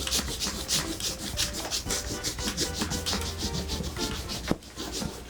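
A pencil eraser rubbing back and forth on paper in quick repeated scrubbing strokes, close and fairly quiet, with no talking.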